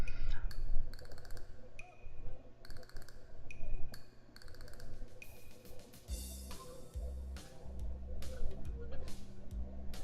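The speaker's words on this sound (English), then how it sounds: "From inside I hear a few movements, then the clicking of way more locks than I thought these doors had" Many door locks in the Katawa Shoujo visual novel click open one after another in a quick ticking run, mid-loud over a steady background tone, with a few heavier knocks toward the end.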